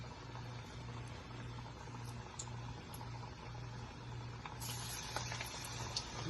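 Potato hash browns frying in hot oil, a quiet steady sizzle and faint bubbling throughout, with a soft periodic hum beneath and a brief brighter hiss near the end.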